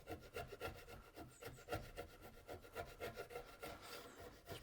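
A steel chisel scrapes hardened Collano Semparoc panel glue off wood in a steady run of rasping strokes, close and rhythmic, with no voices.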